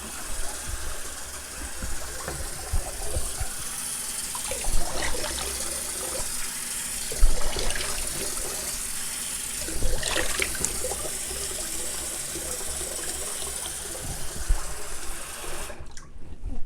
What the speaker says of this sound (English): let me rinse this off and come back with post shave